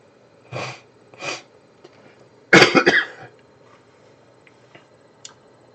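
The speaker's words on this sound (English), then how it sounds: "I need to learn to cover my cough by muting myself." Two short muffled coughs, then a louder harsh burst of coughing, close by, followed by quiet with faint ticks.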